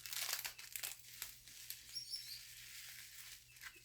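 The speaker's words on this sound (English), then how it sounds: "Excuse the wrapper. The crinkling." Plastic wrapping on a small pack of craft drills crinkles close up in quick, irregular bursts, loudest at the start and then softer, crackling intermittently over a faint low hum.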